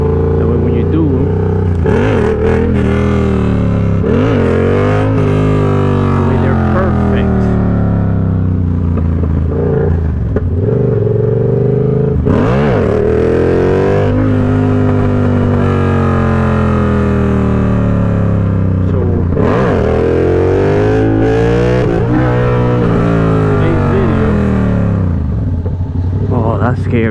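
A motorcycle engine revs repeatedly during wheelie practice on a gravelly stretch, the pitch climbing and falling in loud, close bursts over roughly half a minute.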